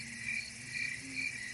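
Crickets chirp steadily in a nighttime riverside setting in the sierra, a continuous high trilling with a few louder pulses, moderately close, with a low background hum and no voices.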